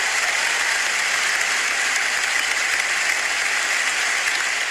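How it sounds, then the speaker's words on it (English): An audience claps at an anniversary special show, loud and dense applause that carries on evenly and alone for several seconds. "Round of applause, everybody."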